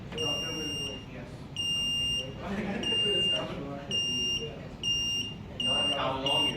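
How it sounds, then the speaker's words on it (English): A smart stick obstacle sensor emits high electronic beeps that come quicker and shorter as a book is brought closer, heard under people talking in a room. "As we can see, we move the book closer to the model or model smart stick. The frequency of the beeps increase."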